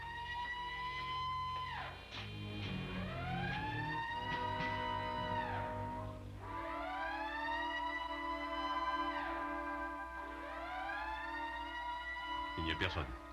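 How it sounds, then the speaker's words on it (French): An alarm siren aboard a submarine wails in repeated rising and falling sweeps, loud and steady throughout, with a low mechanical hum underneath. "Le signal d'alarme."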